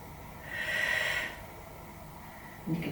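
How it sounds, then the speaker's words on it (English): A single drawn-out breath during a Pilates hip and glute workout, a soft airy exhale lasting under a second, faint and close, followed by quiet room tone. "let's breathe in and breathe out"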